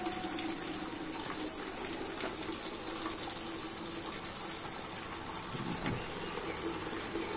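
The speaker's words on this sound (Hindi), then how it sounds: "तुरंत ही पानी निकल आता है इसमें से।" Nutrient-rich water gushing out of a nutrient harvester, a steady broad rush of flowing water with a constant pump-like hum beneath, close and unbroken from start to end.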